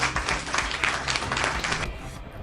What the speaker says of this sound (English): Can I get a round of applause for me?